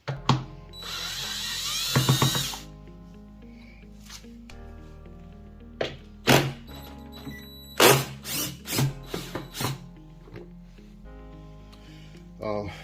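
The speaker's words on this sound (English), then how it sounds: "I'm currently using a 10mm in my drill." A power drill fitted with a 10mm socket whirs in one loud two-second burst, followed by several sharp clicks and knocks over a steady tonal background, while removing parts on a John Deere S140 mower.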